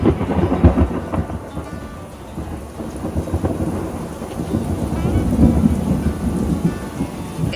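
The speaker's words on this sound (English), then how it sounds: "as you can see, it's just thunder and lightning" Thunderstorm at night outside a parked RV, with heavy rain and repeated rolling thunder rumbling low and steady for several seconds, no voices present.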